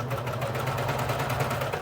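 A sewing machine running steadily while hemming and topstitching swimwear, its rapid mechanical stitching hum constant and close for the whole short stretch.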